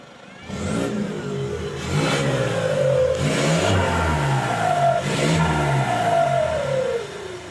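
Motorcycle engine revving repeatedly, pitch rising and falling in several surges, loud and close with a raspy exhaust tone; no talking.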